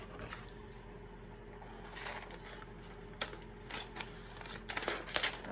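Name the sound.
scissors cutting paper for junk journal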